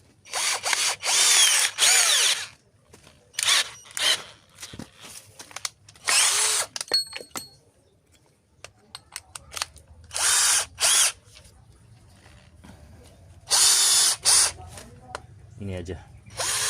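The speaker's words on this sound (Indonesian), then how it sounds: "Mata bor auger bit di 18 mili" A 25-volt cordless drill with an 18 mm auger bit whines in several short bursts as it bores into dry wood at speed 1, with someone talking in the pauses between bursts.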